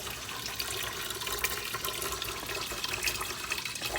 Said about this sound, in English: Look, water's coming out.